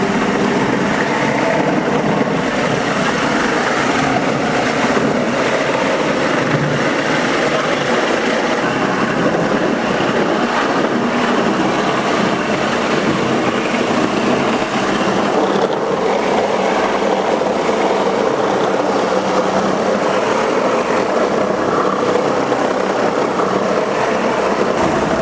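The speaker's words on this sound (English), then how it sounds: "Like all Workmaster machines, one pull of this handle will get the machine going." A Workmaster deck refinishing machine runs on a cedar deck with a continuous, loud mechanical whir and rattle. The drone holds steady for the full duration, and no one speaks over it.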